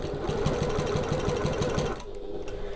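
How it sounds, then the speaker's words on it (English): A sewing machine runs a decorative top stitch along a strap tab at a long stitch length, a close, steady rapid rhythm that stops abruptly near the end, leaving quieter room hum. "I'm going to use my top stitching stitch length for this one."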